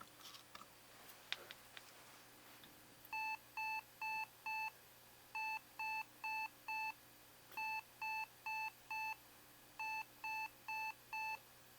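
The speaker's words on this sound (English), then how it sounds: "That was 4 beeps." After a couple of faint clicks, an IBM ThinkPad X31 laptop gives POST error beeps, groups of four short electronic beeps repeating in a regular pattern, clear against a quiet background hum.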